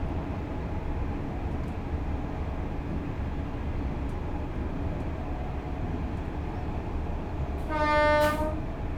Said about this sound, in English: I guess I got the game volume turned up a bit because this train's quite quiet